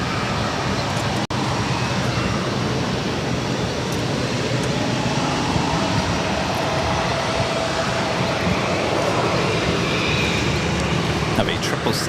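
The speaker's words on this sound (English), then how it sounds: "Have a 777 now short final." A Boeing 777 on short final into Boston Logan, its steady jet engine roar holding at a constant level throughout, with broadband airport noise and radio chatter underneath.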